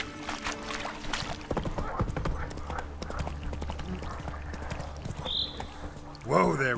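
Roach, the horse in The Witcher 3, clip-clops along at a steady pace with quick hoof beats under game sounds, ending with a brief rise in noise.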